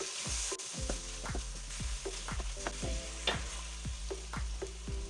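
Stir-fried noodles with soy sauce, dark soy sauce and black pepper are stirred and tossed in a sizzling pan, with repeated scraping strokes roughly every half second over steady frying.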